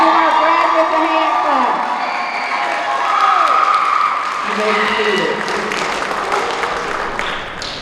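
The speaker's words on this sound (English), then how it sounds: "let's give our graduates a hand" A crowd at a Job Corps graduation ceremony cheers and applauds the graduates after the tassel turning, a loud, dense wash of clapping mixed with whoops and voices and music-like tones underneath.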